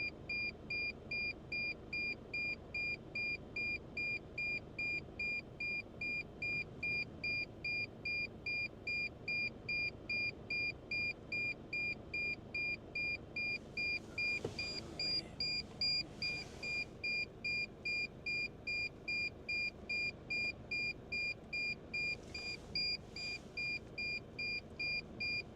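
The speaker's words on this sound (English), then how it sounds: "sorry for it beeping. It will beep until I plug it in." A drone controller gives a steady safety alarm, a high, pulsing electronic beep repeating about once per second without pause, while a low background hum runs underneath and a few soft muffled bursts intrude midway.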